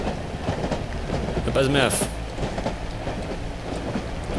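Train ride in the video game Cry of Fear: steady rolling rumble and clickety-clack of rail wheels with a brief metallic squeal, heard under a voice.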